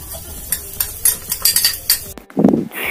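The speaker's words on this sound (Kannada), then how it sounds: "ಈ ಅಂಟು ನಾನು ಏನು ಪುಡಿ ಮಾಡಿ ಇಟ್ಕೊಂಡಿದ್ದೀನೋ ಅದನ್ನ ಮಿಕ್ಸ್ ಮಾಡ್ತಾ ಇದ್ದೀನಿ" A spoon scrapes and clinks in a pan while powdered edible gum is mixed into ghee. The strokes are quick and uneven and sound close, ending in a louder metallic knock and scrape.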